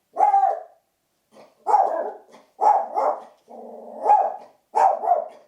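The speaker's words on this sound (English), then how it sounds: "The barking has subsided." A dog barks in several short bursts separated by brief pauses, each bark sharp and close, with a slightly drawn-out, growly bark near the end.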